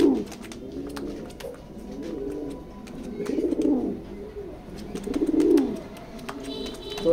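A red checker pair of pigeons in a loft, giving deep throaty coos that swell in several slow rising and falling waves, near and fairly loud, with faint clicks and rustling between them.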